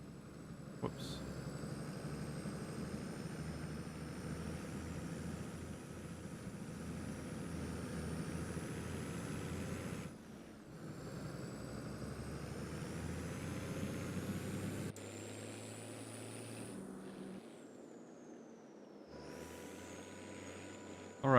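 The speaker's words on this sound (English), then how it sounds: "Oh, I was wondering why I can't hear my tractor." A steady tractor engine drones in a farming video game, a continuous low hum with whining tones above that shifts and drops in pitch near the end, heard alone at moderate level.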